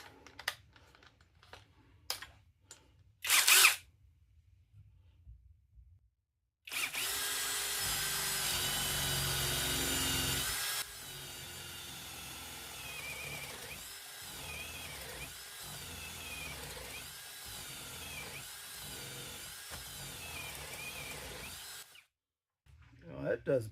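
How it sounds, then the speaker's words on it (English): A Makita DDF487 cordless drill bores into wood with a spade bit, a loud steady whine that drops to a lower, pulsing grind as it cuts, after some clicks and handling. "Let's try a paddle drill or a spade"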